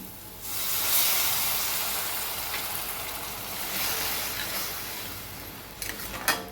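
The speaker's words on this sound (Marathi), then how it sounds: "आता आपण याच्यावर टाकूया अर्धा ग्लास पाणी" Half a glass of water poured into a hot pan of sautéed fenugreek greens sets off a loud, sustained steamy hiss that slowly fades, ending with a few clinks near the finish.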